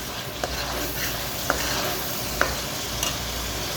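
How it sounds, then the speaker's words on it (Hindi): Onion frying in a pan until it turns light pink, a constant close sizzle broken by a few sharp taps and scrapes of a stirring spoon. "हम इसको हल्का हल्का गुलाबी करेंगे प्याज को"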